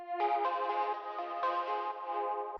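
A pluck synth arpeggio run through a bandpass filter, Shaperbox sidechain pumping, stereo panning and TAL reverb, sounding thinner and softer with a gently pulsing, spacious tail.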